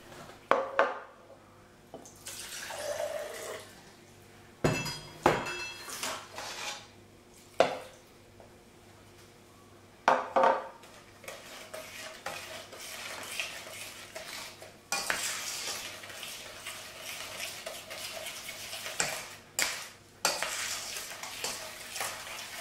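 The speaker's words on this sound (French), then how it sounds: "il ne faut surtout pas fouetter, mais mélanger avec une cuillère" A spoon stirring a chocolate mixture for a trianon dessert in a bowl, with repeated scraping and clinking strokes that come in uneven bursts, close and moderately loud.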